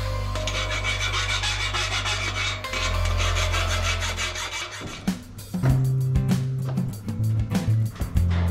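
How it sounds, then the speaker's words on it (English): Hand file rasping across metal in steady back-and-forth strokes, close and loud, with the rhythm breaking into shorter, uneven strokes and knocks toward the end, no speech. "good old file, the basics of metalworking."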